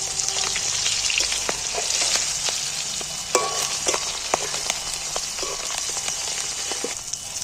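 Cauliflower pieces fry in oil in a pan, giving a steady close crackling sizzle with scattered pops and occasional stirring clicks throughout, no voices.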